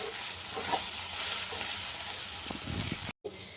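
Chilli paste tempering for a gongura dish being stirred and fried in a pan, a continuous close sizzle with scraping stir strokes, ending in a brief cut of silence.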